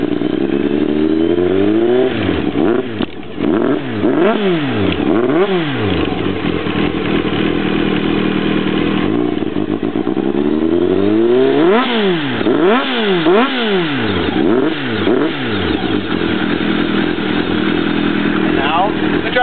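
A 2000 Kawasaki ZR-7 motorcycle fitted with a Jardine exhaust idles close by and is blipped in repeated sharp rev sweeps, two clusters of rising and falling roars separated by a calmer stretch.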